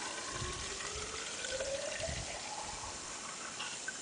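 Water gushes steadily into a homemade air cannon, a quiet, continuous rushing flow with a rising filling tone and no voices.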